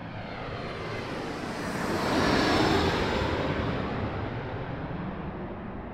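A fixed-wing airplane arriving at Raleigh-Durham International Airport, a broad steady engine roar that swells to its loudest near the middle as the aircraft passes, then eases slightly, heard alone without talk.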